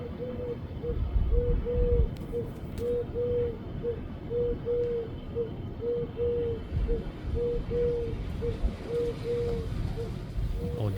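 A bird hoots steadily in a fast, even series of short low calls, repeating throughout over a rumbling outdoor background in summer in America.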